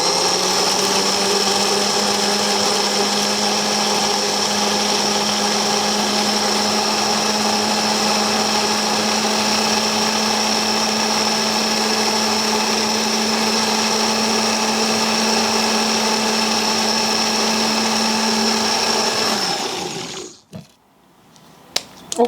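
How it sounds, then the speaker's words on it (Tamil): A kitchen mixer grinds soaked rice for a hair mask with a loud, steady motor whine and churning that runs continuously for about twenty seconds, then cuts off abruptly, followed by a few light clicks. "இப்போது அரைச்சிக்கலாம்."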